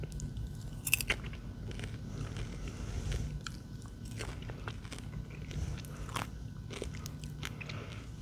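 Crunchy snacks bitten and chewed up close in a quiet room: scattered crisp cracks and crunches over soft steady mouth noise, fairly faint, with no talking.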